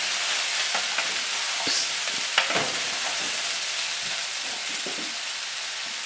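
Sweet potato hash fries in a pan, a steady close sizzle with scattered scraping and clinking as it is stirred, with no voices.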